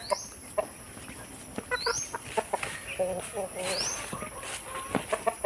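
Muscovy ducks on a farm calling out, scattered short soft honks and chatter repeating irregularly at moderate distance, with a person talking over them throughout.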